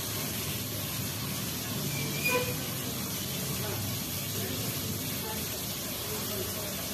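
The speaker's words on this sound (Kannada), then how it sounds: "ಈಗ ಟೊಮೆಟೊ ಸೇರಿಸೋಣ. ಇದನ್ನು ಸಹ ಫ್ರೈ ಮಾಡ್ಕೋಬೇಕು." Tomatoes sizzle in a hot pan while cooking village-style tomato khichdi, a steady soft hiss that runs evenly throughout with no talking.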